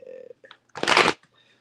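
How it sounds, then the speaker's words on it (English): A deck of cards is shuffled once in a short, dense riffle burst. A voice comes before it and faint sounds follow. "Let's shuffle these up real quick."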